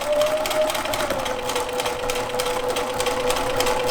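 A sewing machine stitches a zipper bag, running steadily and fairly close for the whole four seconds without pause, with a faint hum running under the rapid needle chatter.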